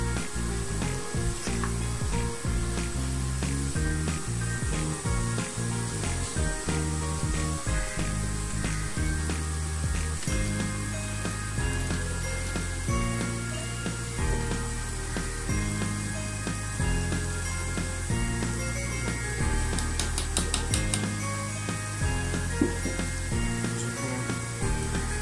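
A pot of cooked vegetable khichuri is stirred, giving a constant soft sizzle with a dense run of rhythmic scraping and clicking strokes that continue without pause.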